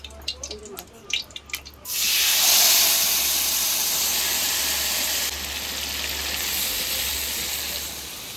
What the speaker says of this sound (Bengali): এবার মাছটা কড়াইতে দিয়ে দেবো